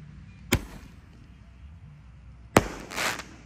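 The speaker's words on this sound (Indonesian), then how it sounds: "8 shot berhasil menyala" An 8-shot firework cake set off for an Idul Adha celebration gives two sharp, loud outdoor bangs about two seconds apart, the second followed by a brief crackling burst.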